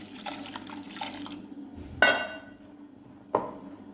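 Water pours and splashes into a pressure cooker holding onion, chilli powder and turmeric, heard as a soft trickle up close that breaks into two sharper sloshes, with the last one near the end.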